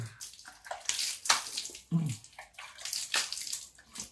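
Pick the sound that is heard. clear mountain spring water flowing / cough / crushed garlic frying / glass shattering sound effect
clear mountain spring water flowing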